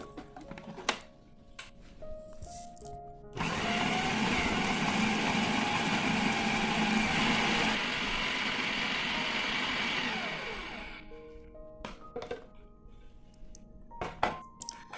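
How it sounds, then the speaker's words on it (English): Blender grinding sambal belacan ingredients into a coarse chili paste, a loud steady whirring motor running for about seven seconds and then winding down, with quieter kitchen clatter before and after. "If you want it to be smooth and creamy, you can blend it a bit longer."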